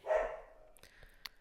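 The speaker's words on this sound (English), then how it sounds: "That's some fun barking there." A dog gives a single short bark near the start, followed by a few faint clicks and small scuffling sounds in a quiet room.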